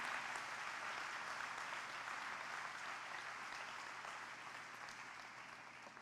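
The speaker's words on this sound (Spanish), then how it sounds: "Dale un buen aplauso a él" A church congregation gives sustained applause, a dense, even wash of many hands clapping at a distance that holds steady and eases slightly toward the end.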